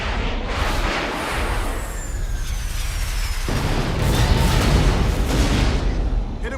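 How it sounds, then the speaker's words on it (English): Missiles launching and exploding in a Godzilla film battle, a dense roaring rush with heavy booming impacts and a sharp blast midway, loud and continuous. "Rockets armed, firing."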